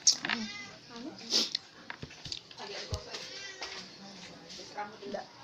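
A house cat meows several times in a home at breakfast, short high cries that are fairly close and clear, mixed with soft background chatter and a voice.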